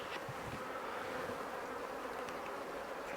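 Honeybees swarm around an open hive during a nuc transfer, a dense steady buzzing hum that fills the whole span, close and continuous with no talk.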